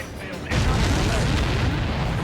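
Missile explosions in the video game Ace Combat 7: a loud, dense rumble of booms bursts in after a quieter start and continues as a sustained roar.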